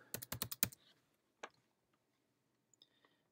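Quick burst of typing on a computer keyboard, about eight close, crisp keystrokes in the first second, then quiet with a couple of isolated faint clicks.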